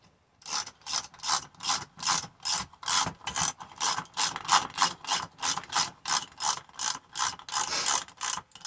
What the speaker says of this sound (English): so we'll get our 3/4 inch socket back on here to righty-tighty